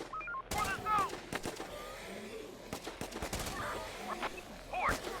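Assault rifle fire rings out in a survival base defense city-rebuilding RTS, with short, sharp bursts of shots spread through the scene among game alert tones and background effects.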